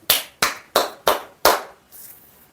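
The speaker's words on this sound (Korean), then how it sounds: "박수!" Hands clap five times in crisp, evenly spaced strokes, each loud, close and sharp with a quick decay, followed by a faint trailing rustle.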